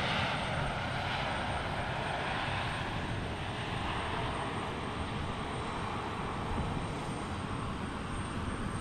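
An airliner arrives at PDX airport, its engines producing a continuous, loud broadband roar that holds steady throughout with no voices over it.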